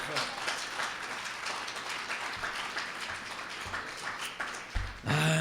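A church congregation applauding together, a dense steady wash of clapping that lasts throughout, with voices mixed in and a louder burst near the end.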